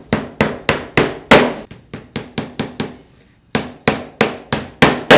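A hammer drives nails into a wooden strip while building a circular-saw guide rail, striking a dozen sharp, loud blows in quick runs with a short pause midway, close and alone.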